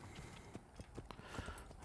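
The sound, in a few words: horse clip-clopping in Assassin's Creed, a video game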